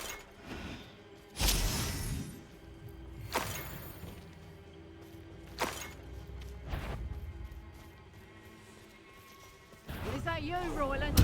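Bombarda spell blasts in the video game Hogwarts Legacy, sharp loud explosive bursts with shattering crashes recurring every couple of seconds amid game combat noise, with a voice briefly heard.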